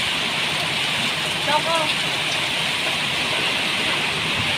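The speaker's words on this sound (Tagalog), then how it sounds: "Ang lakas ng ulan." Dense, steady rain hisses loudly throughout during a whirlwind storm, with a brief faint voice and a small sound partway through.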